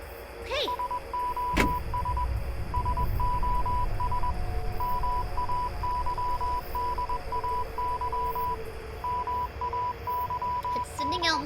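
An electronic beeping signal in a video game taps out a Morse-like pattern of short and long tones. It repeats steadily in broken groups over a low, quiet background, with a couple of brief sharper noises near the start.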